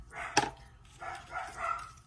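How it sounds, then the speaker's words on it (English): Pet dogs bark indoors in a few short, muffled yaps, one sharper bark followed by three softer ones, fairly faint and in the background. "I'm so sorry if you hear my dogs barking"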